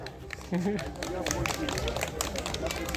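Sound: audience applause

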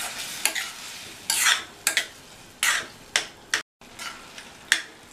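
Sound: stirring tomato and moong dal kootu in a pan

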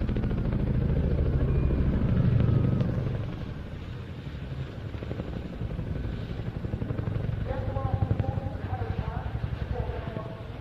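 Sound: Chinook helicopter flying at air festival

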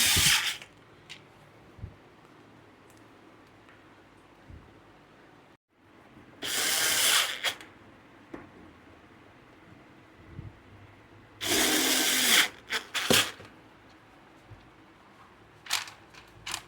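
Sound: screws being driven in

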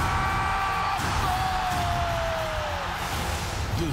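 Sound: football crowd shouting at a goal

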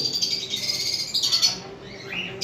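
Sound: pet birds calling in farm cage

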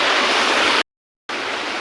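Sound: waterfall

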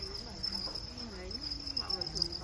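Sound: crickets chirping on a cricket farm

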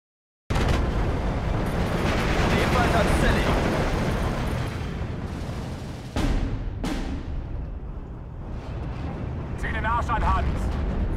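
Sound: mortar fire explosions in video game Steel Division 2

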